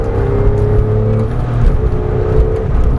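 Porsche 911 race car accelerating hard on the Marcoussis circuit, a loud continuous engine roar with a steady rising whine and harsh low rumble throughout, heard from close by.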